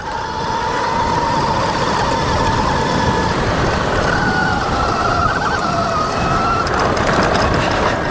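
Rawrr Mantis X electric dirt bike climbing a trail hill at full throttle, giving a steady loud whine with rising tonal motor pitch over broad rushing wind and terrain noise, continuous throughout.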